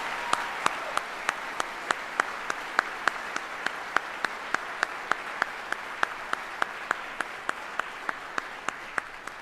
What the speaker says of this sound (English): please join me in a round of applause for these 30 great soldiers